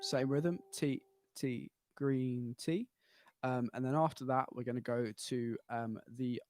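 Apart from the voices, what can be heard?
No everyday noise stands out behind the speech.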